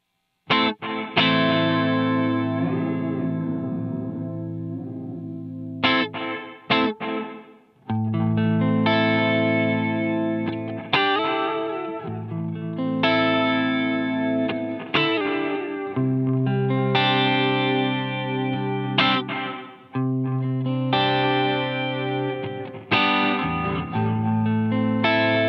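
Notes from an effects unit ring through a reverb with a short pre-delay gap before the tail swells in, lending a distorted, echoing wash to each phrase. Sustained tones repeat in loud phrases, a few separated by brief near-silent breaks.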